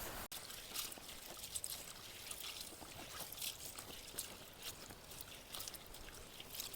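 Small dry fish are washed in water, with quiet, close trickling and sloshing continuing softly throughout.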